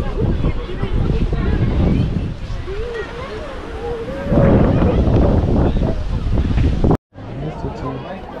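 Wind buffets the microphone at a crowded seaside viewpoint in South Goa, a steady loud rumble throughout with a brief dropout near the end.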